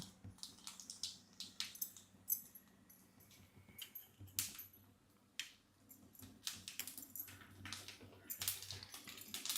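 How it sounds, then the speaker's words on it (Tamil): Mustard seeds spluttering in hot oil, a quiet run of sharp irregular pops and crackles scattered across a faint background hiss. "இப்போ எண்ணெய் காஞ்சிருச்சு கடுகு போட்டுடலாம்"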